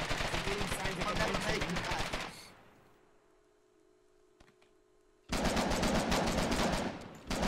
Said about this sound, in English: Machine gun, northeast.